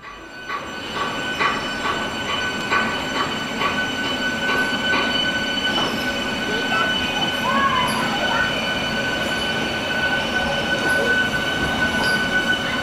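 A train departing platform 1 at Karimnagar railway station rolls steadily along with a continuous rumble, rhythmic wheel clacks and high metallic squeals, fairly close and without talk.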